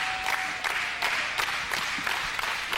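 Wrestling fans at a live indoor match cheer and clap in a dense, steady roar of crowd noise that swells in repeated waves, loud and sustained throughout.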